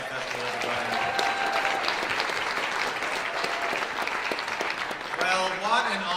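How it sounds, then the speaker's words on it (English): Audience at the 2019 International Folk Music Awards in Montreal applauds steadily, a dense wash of clapping with voices talking over it toward the end. "Give another round of applause to the Hillside Festival, everybody."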